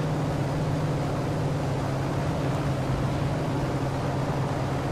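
A damaged engine on a Ki-84 fighter plane in War Thunder drones steadily with a low rumbling roar and a broad rushing noise, loud and continuous without a break, and no voices can be heard.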